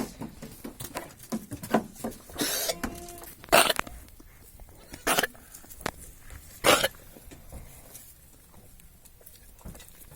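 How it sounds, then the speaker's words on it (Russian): Domestic goats cough in short, sharp bursts, several spaced hacks standing out over a quiet barn background with faint rustling. "кашля у коз."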